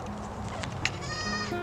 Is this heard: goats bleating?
yes